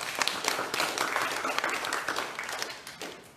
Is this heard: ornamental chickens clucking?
no